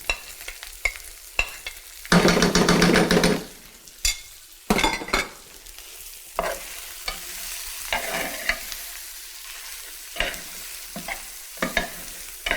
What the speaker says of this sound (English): Then I add brown roux.